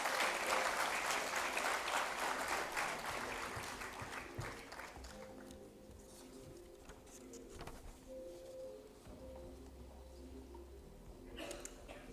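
Audience applause at an award ceremony for sustainable development partnerships, a sustained clapping that fades after about four seconds, leaving a quieter room with faint bird-like cooing and low tones.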